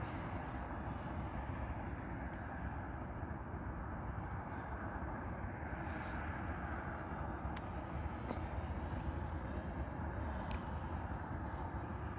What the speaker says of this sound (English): One thing I like about this drone, it's nice and quiet.